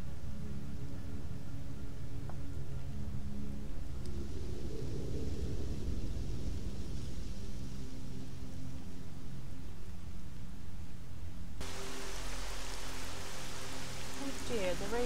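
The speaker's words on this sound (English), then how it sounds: "Oh dear, the rain is only getting heavier." Heavy rain falls in the video game S.T.A.L.K.E.R. Lost Alpha, a steady broadband wash with a low rumble. It grows louder and brighter near the end.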